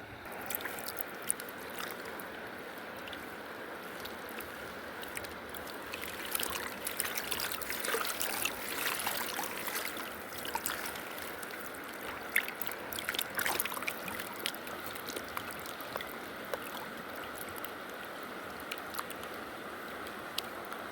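Water trickles and sloshes continuously while gold is panned with a turbo pan outdoors, a close, moderately quiet wash with small splashes and gurgles rising in the middle and no talk.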